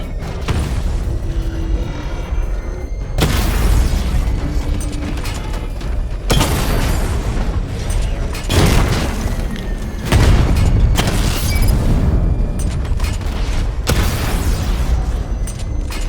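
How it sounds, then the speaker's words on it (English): Missile barrage explosions in Batman Arkham Knight, a series of heavy booming blasts in separate bursts about every two to three seconds, loud and close, with mechanical whirs between them and no talking. "Charge up missile barrage to level 2 and destroy 4 active targets to complete diagnostic test."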